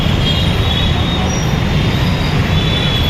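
A train in Hyderabad passes on the railway track, a loud, close, continuous roar of wheels and carriages with a high squealing tone running steadily throughout, no voices.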